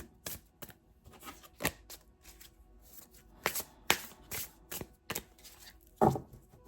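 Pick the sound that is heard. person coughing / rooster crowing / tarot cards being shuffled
tarot cards being shuffled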